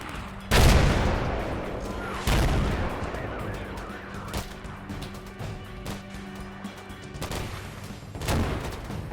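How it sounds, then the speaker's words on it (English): Artillery shells slam down in a modern combat wargame, several heavy booming impacts spaced a couple of seconds apart, each followed by rumbling decay, with crackling gunfire and battle noise between blasts. "thankfully I have them lasered, and within minutes, 2 shells crash down"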